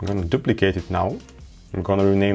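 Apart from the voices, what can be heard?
No distinct noise like a dog, phone or traffic.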